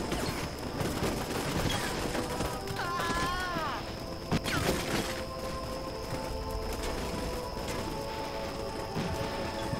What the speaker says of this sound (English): They are under fire from all directions.